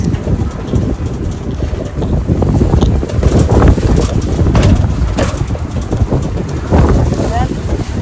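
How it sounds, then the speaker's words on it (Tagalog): Strong wind buffets a microphone outdoors in a parking area, a steady loud rumbling roar throughout, with a person speaking briefly over it. "Malakas ang hangin guys."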